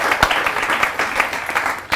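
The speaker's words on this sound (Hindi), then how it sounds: "एक बार जोरदार तालियां हो कवि संग्राम के लिए" An audience applauds at a televised Hindi poetry event, producing a full, continuous burst of clapping with a few sharper individual claps standing out and no voices on top.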